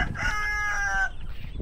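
In a chicken coop, a single loud, drawn-out crowing call from a chicken rings out close by for about a second, then fades into soft rustling.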